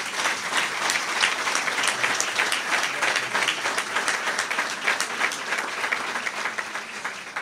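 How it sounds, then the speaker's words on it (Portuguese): Audience applause at a swearing-in ceremony: dense, sustained clapping from a sizeable crowd, loud and even throughout. "Uma salva de palmas para ele, meu amigo Zé António."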